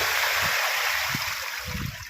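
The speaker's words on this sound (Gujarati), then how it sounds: "જોરદાર પાણી આવે છે" Strong water gushes from a broken pipe in a constant close rushing hiss, with a few low splashing bursts underneath.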